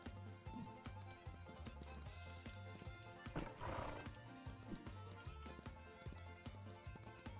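Horse cantering in a ranch video game: steady rhythmic hoofbeats under a droning game soundtrack, with a brief whinny around the middle.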